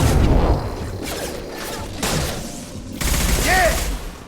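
Sci-fi gunfire in Mass Effect Legendary Edition, several bursts of shooting in a loud firefight with whooshing effects, with voices talking over the combat.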